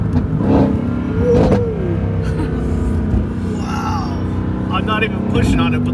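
A Mercedes-AMG GT with a dual-clutch transmission and rear-wheel drive pulls hard from the cabin, its engine rising and dropping through quick, crisp gear changes, loud and close, with a voice speaking over it.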